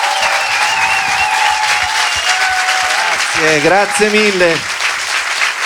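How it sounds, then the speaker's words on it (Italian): A live Italian comedy audience gives sustained applause: dense, steady clapping that fills the room, while a voice speaks briefly in Italian over it near the end. "Allora vi chiedo un altro applauso a Fabio."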